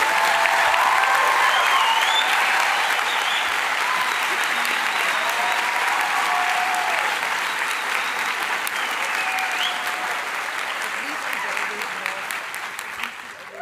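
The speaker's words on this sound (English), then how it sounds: "we should give them a resounding sound of applause" A ceremony audience at a healthcare sciences declaration ceremony breaks into sustained applause that stays dense and steady for the whole stretch, tapering only slightly near the end; no one speaks over it.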